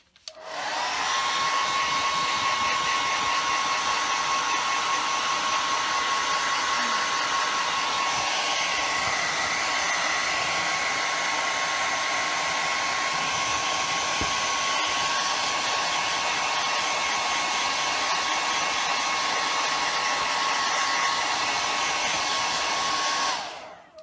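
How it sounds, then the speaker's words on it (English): A hair dryer blows loudly and steadily for the whole stretch, a constant whooshing roar with a high motor whine, starting and stopping abruptly. "Sorry guys, hair dryer again."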